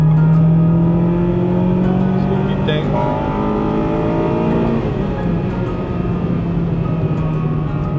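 Honda Integra DC5 sport coupe engine revving with VTEC, a loud close engine drone whose pitch climbs and then settles, with a voice talking over it.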